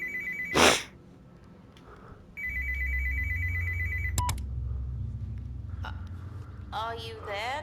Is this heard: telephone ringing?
yes